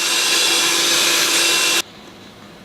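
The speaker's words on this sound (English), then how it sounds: "Give it a quick whisk." An electric mixer whisks cake batter of eggs and flour in a steady, loud whirring drone close by, running for nearly two seconds before switching off abruptly.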